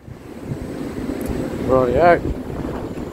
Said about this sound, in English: it's also pretty windy too, and the water's very messy.